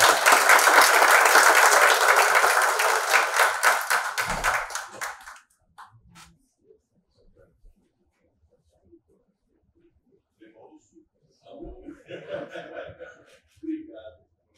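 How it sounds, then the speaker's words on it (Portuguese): Audience applause fills the hall at a university lecture event marking 200 years of German immigration in Brazil, a loud sustained burst of clapping that fades after about five seconds, followed by quiet and a few spoken words. "Uma salva de palmas."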